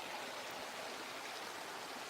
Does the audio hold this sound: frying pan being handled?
no